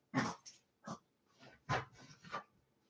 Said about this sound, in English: Does anybody know why this dog rubs her head on the carpet?